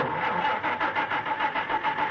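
A car engine cranks with a pulsing, rhythmic churn, repeating evenly and fairly loud, without settling into a smooth idle, used as a sound effect in the Where the Wild Things Are animated film.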